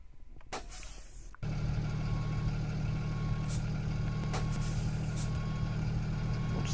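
The simulated parking brake of a 2008 Blue Bird Vision school bus in Rigs of Rods lets out a short burst of air hiss, followed by a steady engine drone with faint intermittent beeps.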